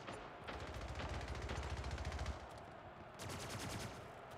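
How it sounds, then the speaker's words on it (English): Automatic machine gun fire in the video game Splitgate, rapid rattling bursts heard twice, with a short pause between the two bursts, and no voices over them. "Oh, so it's a machine gun."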